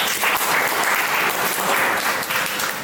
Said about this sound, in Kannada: ಎಲ್ಲರಿಗೂ ಅವರವರ ಚಪ್ಪಾಳೆ ತಟ್ಟಿ ಒಂದು ಪ್ರೋತ್ಸಾಹಿಸಬೇಕಾಗಿ ವಿನಂತಿ.